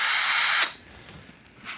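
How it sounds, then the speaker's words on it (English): A power drill on a slow setting drives a screw while a whitetail deer antler is mounted on a form, whirring loudly for a moment before stopping abruptly, then a faint tap. "put your drill on a slow setting"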